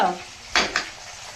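Curry leaves fried in oil in a pan while preparing an onion-chili dish to serve with corn dumplings: a faint sizzle under two sharp clatters of a spoon against the pan, each close and brief.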